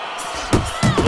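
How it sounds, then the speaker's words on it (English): Boxing punches landing in the video game Fight Night Champion, two or three punchy thuds with crowd noise and commentary-like background. "Little double jab to the head."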